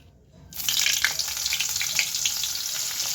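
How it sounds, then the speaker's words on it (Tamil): After a brief quiet moment, paneer dropped into oil with a piece of butter bursts into a loud, steady frying sizzle that continues evenly, close up and without speech. "இப்போ நம்ம பன்னீர் ஃப்ரை பண்ண ஆயிலே வந்து ஒரு பீஸ் பட்டர் போட்டுக்கலாம்"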